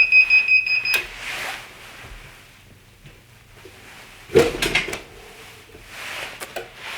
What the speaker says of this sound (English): turn on my timer, which is set for 15 seconds